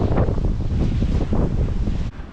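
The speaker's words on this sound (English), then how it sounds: "That is windy right there" Strong wind buffets the microphone in a steady, loud roar, with gusty rumbling that drops off abruptly near the end.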